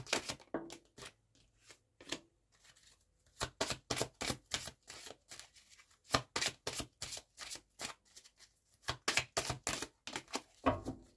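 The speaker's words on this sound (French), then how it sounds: "on va aller tirer une carte complémentaire" Tarot cards are shuffled and drawn in quick, crisp bursts of riffling and slapping, close and fairly soft, with short quiet pauses between runs and no speech.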